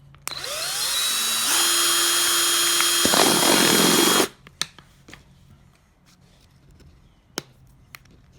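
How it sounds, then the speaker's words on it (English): A power drill whirs up and runs loudly for about four seconds, biting into the plastic center of a water bottle, then stops, followed by a few light clicks and taps. "drill out the center."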